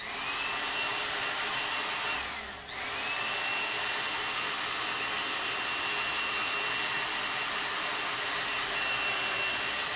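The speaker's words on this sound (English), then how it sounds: "You gotta have a hair dryer when you're doing watercolor." A hair dryer blows steadily over watercolor paper, a constant close whooshing roar with a faint whine, dipping briefly once before resuming at full strength for the rest of the stretch.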